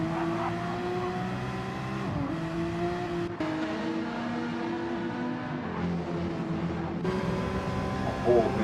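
Race cars roar around the Nürburgring Nordschleife as a Ferrari works past Porsches, sustained loud engine drones with shifting pitch and gear changes, while a commentator talks over the racing.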